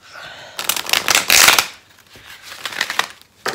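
Playing cards, oracle deck, shuffled by hand in a run of riffling, flapping bursts, strongest in the middle and trailing off into lighter shuffles, close and clear with no talking.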